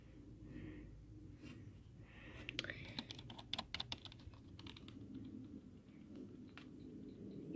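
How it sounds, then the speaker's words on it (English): Computer keyboard clicking on a Dell PC during a Windows 10 upgrade, soft scattered keystrokes in short bursts over a quiet background hum. "You could hear the computer clicking."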